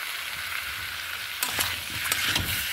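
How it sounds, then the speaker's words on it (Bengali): Prawns being sautéed and stirred into a tomato masala in a pan make a continuous close sizzle, with scraping strokes in the second half and no talk. "চিংড়ি মাছগুলো দিয়ে আরও 2 মিনিট মতন খুব ভালোভাবে কষাতে থাকবো।"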